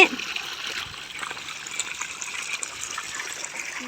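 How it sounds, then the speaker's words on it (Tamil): Irrigation water for garden saplings, mainly guava, runs in a steady hissing trickle, close and continuous, with no distinct splashes and no talking. "எல்லா மரக்கன்றுக்கும் தண்ணி போகிறத பாருங்கள்"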